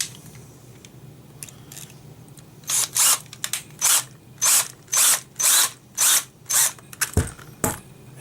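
A power drill fitted with a bigger bit bores into a holster in a string of about eight short, evenly spaced whirring bursts, close and loud, with scraping handling sounds in between.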